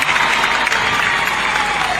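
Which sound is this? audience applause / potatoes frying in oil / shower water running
audience applause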